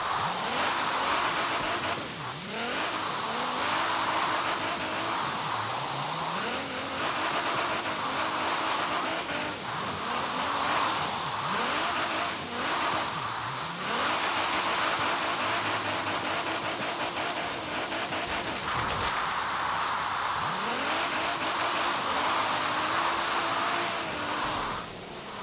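A 1000-horsepower Nissan 240SX drifting in Forza Horizon 3, its engine note rising and falling in repeated revving sweeps over constant tire and exhaust roar, loud and continuous throughout with no talking.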